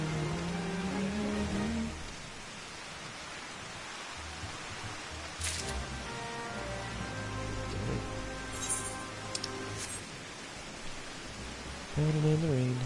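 Steady rain falls in the Final Fantasy XIV video game, a constant soft hiss of moderate loudness beneath sustained game music tones.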